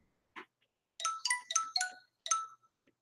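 A phone ringtone plays as a quick run of bright, chiming electronic notes, one short note and then a rapid cluster of several more, clear and close in an otherwise quiet room.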